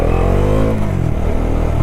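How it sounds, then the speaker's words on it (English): Bajaj Dominar 400 motorcycle pulling away in first gear without throttle, a loud, close engine drone whose steady pitch shifts slightly as it rolls off, heard alone. "With no accelerator, the bike actually goes like this."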